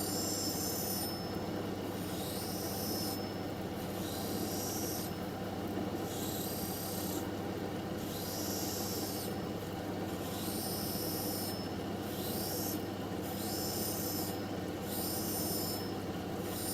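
Beveling the edge of a blue dichroic fused glass cabochon held on a dopstick against a grinding wheel, with a steady machine hum and repeated rasping, squealing grinding passes at regular intervals, quiet and continuous.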